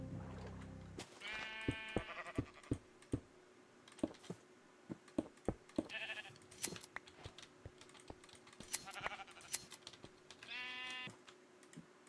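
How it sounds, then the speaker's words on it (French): Sheep in Minecraft bleat in short, wavering cries several times over a steady patter of clicks and taps, with no talking. "Dites-moi que c'est des moutons. Si! C'est des moutons!"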